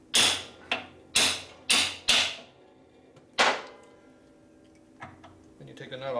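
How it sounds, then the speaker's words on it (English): Metallic hammer strikes ring out on a threaded bolt of a 1973 Harley-Davidson Shovelhead 74ci engine, five sharp blows in quick succession, then a single hit and a few lighter taps. "you beat on it with a hammer"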